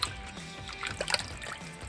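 Water trickles and dribbles from an empty 14.5-ounce can into an Instant Pot for chicken tortilla soup, a faint, steady pour with small splashes.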